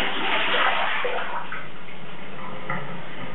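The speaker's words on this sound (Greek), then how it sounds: "Χύνω το νερό σε ένα κουβά για να μην πάει χαμένο" Water poured from a container into a bucket, a steady splashing pour that fills the clip and fades slightly toward the end, with no voices.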